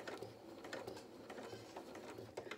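A foot-pedal sewing machine stitches fabric for a Highland cow's head soft toy, its needle tapping in a quick, steady, mechanical rhythm that stays soft and even throughout.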